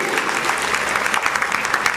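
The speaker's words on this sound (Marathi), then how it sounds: "सर्वांनी टाळ्या वाजवून त्यांचं स्वागत करायचं" An audience at a community organisation's convention claps steadily to welcome an office-bearer taking his seat, a dense, even burst of applause from a crowd close by.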